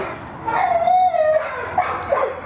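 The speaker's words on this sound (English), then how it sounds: "I know, somebody's barking." A pet dog gives high whimpering yips and short bark-like cries, a few close calls in quick succession, with no talking over them.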